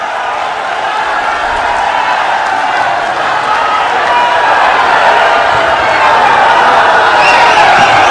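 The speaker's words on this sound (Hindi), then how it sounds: "आप जोरदार तालियों के साथ राहुल जी को स्वागत करो।" A large outdoor crowd at an election campaign rally for Rahul Gandhi at Shaheed Minar claps and cheers, a dense, steady roar of applause lasting throughout with no clear speech.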